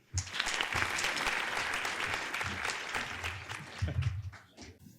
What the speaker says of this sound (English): Please join me in welcoming Stephen Cheung and Ryan Becker.